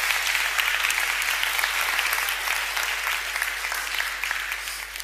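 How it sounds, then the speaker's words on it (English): A conference audience gives a second round of applause for a volunteer after a stage demonstration about musical chords; thick, continuous crowd clapping holds steady for about five seconds, easing slightly toward the end. "Give another round of applause."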